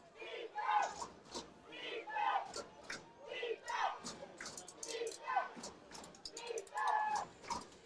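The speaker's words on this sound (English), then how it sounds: "So this Lake Hamilton crowd is loud." The Lake Hamilton crowd at a high school football state semifinal against Sylvan Hills chants in rhythmic surges, heard at a distance and fairly faint, with voices mixed in among the repeated bursts.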